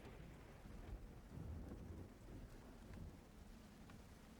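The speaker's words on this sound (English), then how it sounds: "The rain continues to pour." Steady rain pours down with low rumbling underneath, a continuous wash of noise that swells slightly in places, no voices, as ambience in a tabletop role-playing game session.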